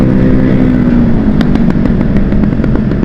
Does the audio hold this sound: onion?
no